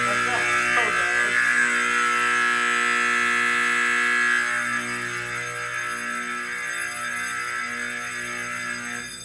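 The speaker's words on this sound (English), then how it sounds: "That one sounds so much worse." An old, very loud fire alarm blares a harsh, steady electric buzzing tone, close and continuous, dropping slightly in level partway through.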